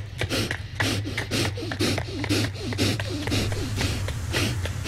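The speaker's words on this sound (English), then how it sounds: "That panting though." Panting in the video game The Last Door, a steady run of quick, harsh breaths over a constant low hum, close and continuous throughout.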